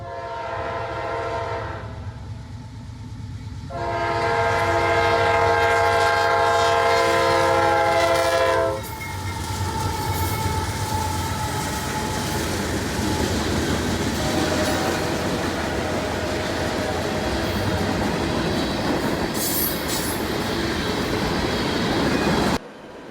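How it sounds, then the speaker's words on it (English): A daily mixed freight train passes in Central Florida, sounding loud sustained horn blasts before a continuous heavy rumble and rolling wheel noise fills the rest of the clip. "Q452 is daily mixed freight from Miami to Winston."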